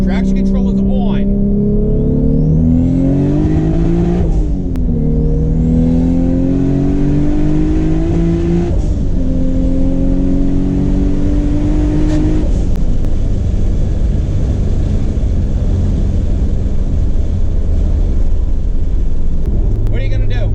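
A drag car accelerates hard through second, third and fourth gear with traction control on, its loud engine climbing in pitch and dropping at each shift, then roaring on as a steady rush of wind and road noise, with a voice talking over it.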